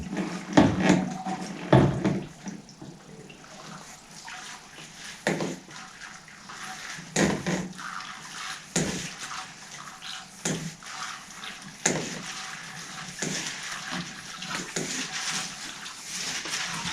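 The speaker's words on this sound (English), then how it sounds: "So I'm just going to try and get my siphon back going here." Water flowing through a siphon hose from a rainwater tank, a steady trickling and gurgling stream broken by irregular splashes and gulps of air, close by and without talk.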